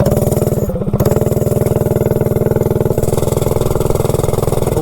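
A mini bike engine running steadily with a cheap $17 clutch, a loud close putter with a fast even beat throughout and a brief dip near the start.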